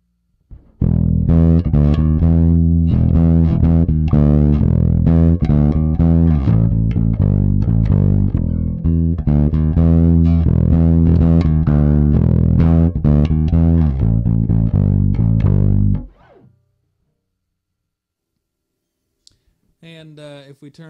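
Electric guitar through an SM Promethean amp dialed for a modern rock tone with the vibe control left on, a sustained stretch of loud, driven chords and picked notes up close, followed by a brief voice at the end.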